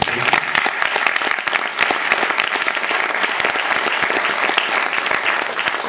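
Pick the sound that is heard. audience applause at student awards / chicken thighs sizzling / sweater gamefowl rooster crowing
audience applause at student awards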